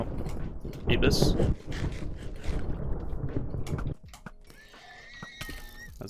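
In the Hoplite battle royale video game, a horse is killed and lets out a loud, close neigh with hoof clatter. Quieter mechanical clicks and creaks follow.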